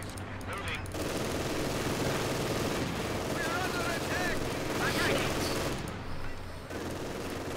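Machine gun fire in Company of Heroes 2 rattles on in dense, continuous bursts under shouting soldiers, with battlefield noise filling the background throughout.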